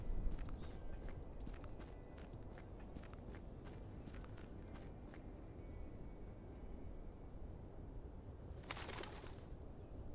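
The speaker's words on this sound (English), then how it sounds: "Birds." Ambient bird calls and cooing pigeons from the video game Blue Prince, soft and steady under a low background hum, with light clicking steps early on and a brief hissy burst near the end.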